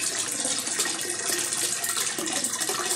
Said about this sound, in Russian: без установки вода течет сама по себе